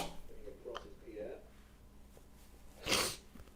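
A single sharp sneeze bursting out in the middle of a cough, loud and close, following a few seconds of quiet breathing and faint vocal sounds.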